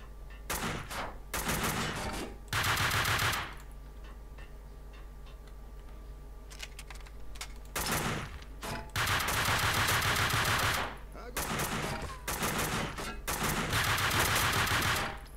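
Bursts of rapid automatic gunfire in the shooter game Max Payne 2, loud and dense, broken by short lulls with faint ticking in between, no talk over it.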